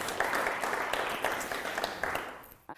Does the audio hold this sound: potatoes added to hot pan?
no